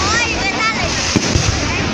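New Year fireworks display celebrating the Lunar New Year 2018 at Hoan Kiem Lake in Hanoi: a dense, continuous crackle and whistle of shells with a few sharp bursts, under a crowd's murmur and voices.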